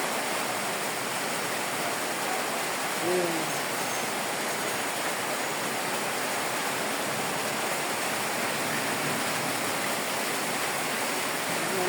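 Floodwater flows steadily through a flooded area of Davao City, an unbroken loud rushing wash with no pauses.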